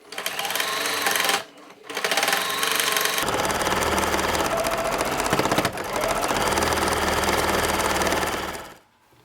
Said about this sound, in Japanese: 裾を縫おう。